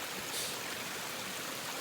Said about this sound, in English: The waterfalls continue, and there was a bunch more that I didn't even film